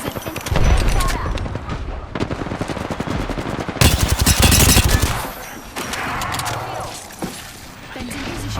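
Automatic gunfire in Apex Legends, with rapid bursts and fusillades breaking out in loud stretches and then falling back to quieter battle noise and game sounds, with some speech.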